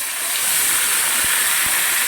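Marinated chicken leg pieces hitting a hot pan, giving a loud, steady steamy sizzle that holds unbroken for about two seconds before cutting off abruptly, with a few soft knocks underneath.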